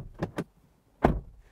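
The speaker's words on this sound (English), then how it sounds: "this is what the door sounds like" A Mazda CX-90 SUV door gives two light clicks of the latch, then one solid close that lands near and firm.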